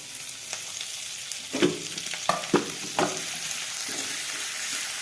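Chopped ginger, added to hot oil with cumin and chopped green chilli, fries with a soft, continuous sizzle, broken by a few sharp scrapes and taps of stirring in the pan.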